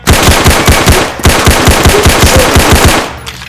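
Rapid automatic gunfire aimed at a fire extinguisher, loud close bursts of evenly spaced shots, a brief break, then another long burst trailing off.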